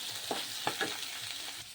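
Chicken pieces with ginger and garlic sizzle in a pan with soft frying hiss while a spatula scrapes and stirs a few times, fairly quiet.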